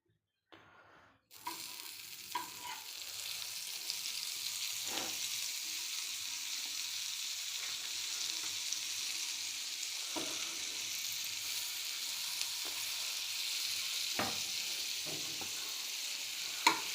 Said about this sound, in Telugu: ఇదే ప్యాన్ పైన కొంచెం బటర్ వేసుకుందామండి